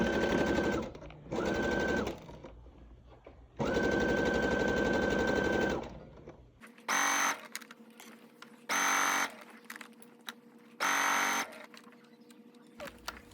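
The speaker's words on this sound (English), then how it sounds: "you're going to take that to your sewing machine and you're going to stitch the side seams and around the pockets" A home sewing machine stitches side seams and pocket edges on a garment in repeated bursts of steady whirring, a few seconds each, with short quiet pauses between runs and no one speaking.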